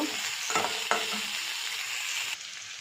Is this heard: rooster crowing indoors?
no